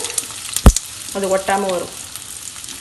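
Grated elephant foot yam (senai kizhangu) fries in hot oil with a soft, steady sizzle. A utensil knocks once against the pan, and someone speaks briefly over the frying.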